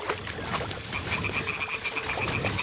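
Toads croak in Kingdom Come: Deliverance 2, a steady run of rapid, pulsing calls set against continuous outdoor ambience, fairly close and clear with no voices.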